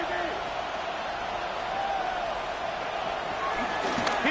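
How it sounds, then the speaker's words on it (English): Stadium crowd noise in a Saints football video game, a steady broad roar that holds loud and even throughout with a slight swell toward the end, with no talk over it. "Crowd noise rises."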